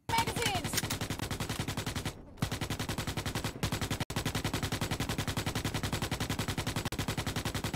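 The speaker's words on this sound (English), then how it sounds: "Someone's still shooting like a madman." Machine guns in the video game Starship Troopers: Extermination hammer out long, rapid, evenly spaced bursts of automatic fire, broken by a couple of brief pauses, with the rattle carrying on almost without a break.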